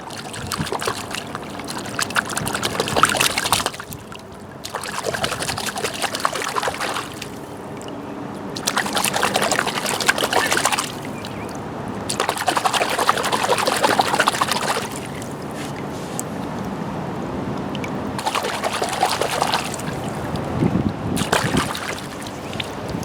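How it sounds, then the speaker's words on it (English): Water rinsing mud off a plaster cast of a raccoon footprint outdoors: loud, close bursts of rushing, splashing water run for several seconds at a time, broken by short pauses. "So I pulled my track up out of the mud, but now I have to rinse it clean."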